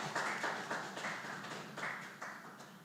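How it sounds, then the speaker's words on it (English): Audience applause for those who introduced the keynote speaker at a college founders' week memorial lecture, a soft, distant patter of clapping with slight swells, heard alone without talk. "Let us give them a round of applause"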